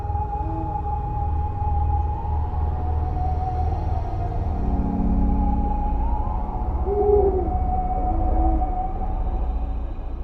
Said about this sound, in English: that deep hoot rolling through the valleys